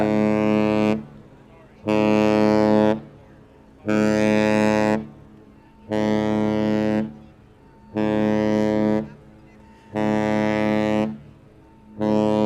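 A deep cruise ship horn at Jetty Park sounds in six long, steady blasts of about a second each, evenly spaced with short gaps between them, loud and resonant.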